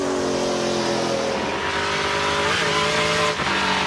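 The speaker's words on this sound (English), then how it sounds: "You can hear hitting that bump on the exit of turn number four" A NASCAR Pinty's Series race car roars steadily at full throttle on an oval exiting turn four, with a brief jolt from a bump in the track near the end.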